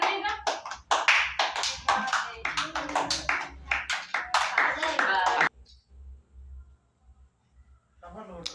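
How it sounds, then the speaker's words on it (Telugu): Hands clap in quick, repeated bursts mixed with lively talking voices, then the clapping drops away to near quiet with faint taps before voices return. "సపరేట్ కొట్టు, సపరేట్ క్లాప్."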